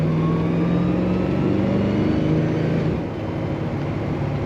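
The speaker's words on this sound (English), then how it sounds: "Great rumble too to that exhaust." A 1965 Ford F100 pickup street rod idles with a steady, low exhaust rumble close by, then eases off slightly near the end.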